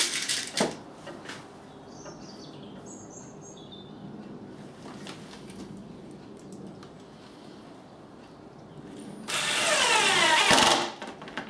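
A power driver sinks torque screws into a wooden stool, a brief whirring burst near the start and a louder, longer grinding drive near the end, with quiet room noise and faint chirps between.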